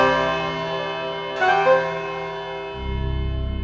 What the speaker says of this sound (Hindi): 5 सेकंड में 5 बजे की घंटी बजने वाली हो